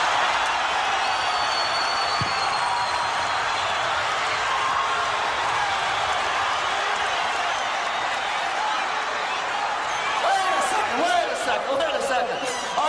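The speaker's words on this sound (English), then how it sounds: "give a listen to how this sellout crowd responds" A sellout wrestling arena crowd reacts with a broad, continuous roar of voices and scattered clapping, and a few louder shouts rise near the end.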